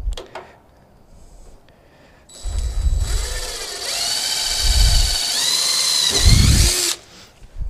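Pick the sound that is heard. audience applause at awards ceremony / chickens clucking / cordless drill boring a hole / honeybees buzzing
cordless drill boring a hole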